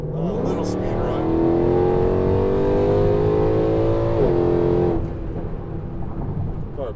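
A Weistec-built Mercedes-AMG C63 making about 680 wheel horsepower launches hard in launch mode, its engine roaring loud and close as the revs climb steadily, breaking briefly at a shift before settling into a lower drone.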